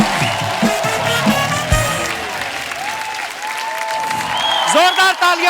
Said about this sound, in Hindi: जोरदार तालियां कार्तिक के लिए।